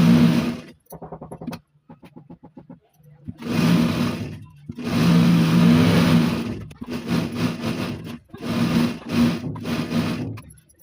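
A sewing machine stitches blouse lining in several loud, steady whirring bursts, with short pauses and quicker stuttering runs between them.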